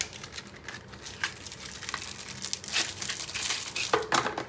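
Plastic wrapping crinkles and tears as a travel toothbrush and toothpaste kit is opened, giving a busy run of close, moderately quiet rustles and crackles with no talk.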